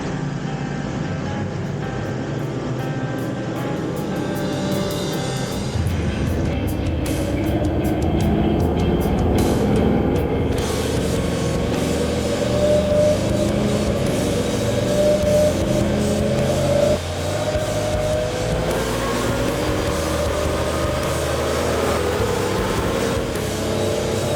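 A turbocharged Toyota FJ49 runs through a boosted dyno tuning pull, its engine a steady, heavy low drone that gradually rises and strains as load builds, with a whooshing, rattling edge through the middle of the run.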